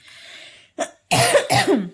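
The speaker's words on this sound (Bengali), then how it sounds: "কাশিটা আবার হালকা হালকা হচ্ছে, এক নাগারে অনেকক্ষণ কথা বললে আবার দেখি কাশি হয়" Two short harsh coughs close by, following a faint breathy sound and a brief throat noise.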